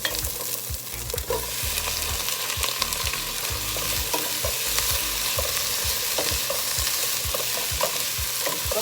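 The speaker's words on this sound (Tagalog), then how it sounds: "Brown lang po natin siya ng konti" Pork browning in a hot pan for Kapampangan pork menudo, a loud continuous sizzle with repeated scraping and stirring knocks in an uneven rhythm, close by and with no talking.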